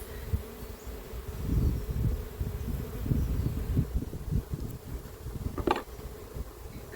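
Honeybees buzz around an open hive during cross-comb repair, a dense, wavering swarm hum that rises and falls close by, with a brief sharper sound near the end.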